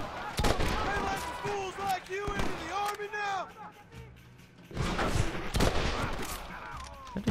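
Gunfire in the video game Red Dead Redemption cracks in several sharp shots, some in quick bursts, over a game soundscape with a voice talking through much of it.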